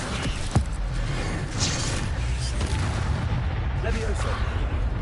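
An Accio spell cast in the Hogwarts Legacy video game gives a sharp impact near the start, then a dense, loud, rumbling boom that carries on throughout.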